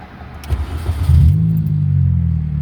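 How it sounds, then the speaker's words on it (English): A 2002–2006 Mini Cooper R50/R53 with a power steering fault starts up: a brief starter whir, then the engine catches and settles into a loud, steady, low idle rumble close by. "When I'm starting my engine"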